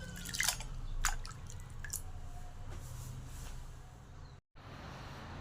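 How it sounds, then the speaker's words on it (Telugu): Soaked rice being washed and drained, with soft drips, squishy splashes and trickling water close by, quiet and intermittent with no talking. "ఈ నీళ్ళన్నీ బాగా నీట్గా కడుక్కొని ఈ 2 సార్లు మళ్ళీ నీట్గా కడుక్కొని వడబోసుకుందాము"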